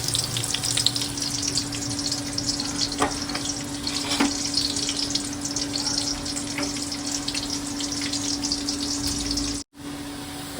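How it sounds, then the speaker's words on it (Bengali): Steady crackling sizzle of chopped onions frying in hot oil with cinnamon and cardamom, continuous and fairly loud, with a few soft clinks and no talking. "এখন আমি দিয়ে দেবো পেঁয়াজ কুচি আর দিয়ে দিয়েছি দালচিনি এলাচ পেঁয়াজটা ভেজে নেবো"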